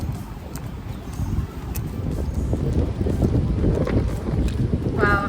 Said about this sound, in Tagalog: Wow, ang hangin.